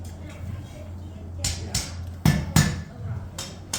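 A hot metal Dutch oven lid lifter is hammered at a forge with several sharp metallic strikes spaced irregularly over a low droning hum, while people talk underneath.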